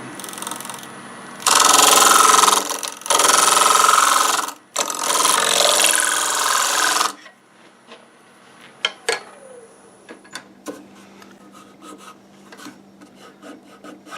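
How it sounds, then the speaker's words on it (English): A negative rake scraper working a mimosa root vase on a spinning wood lathe, three loud sustained rasping scrapes in bursts, then the lathe winding down into scattered knocks and clicks. "I'm going to use my negative rake scraper"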